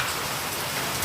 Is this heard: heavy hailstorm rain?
yes